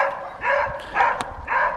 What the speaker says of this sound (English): These neighbor dogs are so noisy.